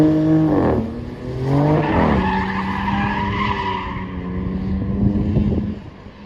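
A Corvette ZR1X with a twin-turbo high-output engine drifting, its exhaust rising and falling through rapid revs with tire squeal mixed in, loud and close throughout.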